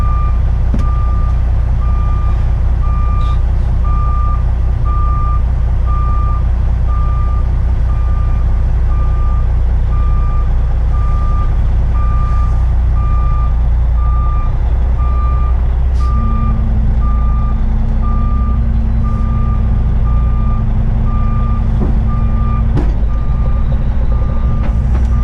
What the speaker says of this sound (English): So now I'm just trying to rehook to the trailer.